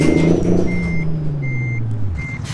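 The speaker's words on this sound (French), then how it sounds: "Si on regarde notre camion, regardez ça s'il est beau. Il fait plutôt un beau bruit. ouh écoutez ce son" A truck in the American Truck Simulator video game, its low engine rumble winding down while a reversing alarm beeps steadily in a regular rhythm over it, close and fairly loud.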